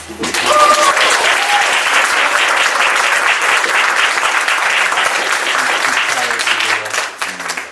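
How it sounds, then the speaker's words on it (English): Loud, full applause from a church audience at a Mother's Day gathering, a dense wash of clapping rising quickly and holding steady before tapering off, with voices faintly mixed in. "Let us give each other a round of applause."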